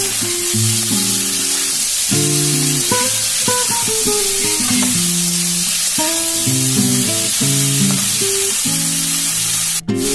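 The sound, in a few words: grated ginger, garlic and onion added to frying pan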